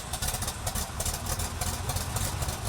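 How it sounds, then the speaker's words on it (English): A 1956 Oliver Super 77 tractor engine idles steadily at close range, a continuous low rumble with an even mechanical rhythm and no talking. "The tractor you're looking at is a 1956 Oliver Super 77."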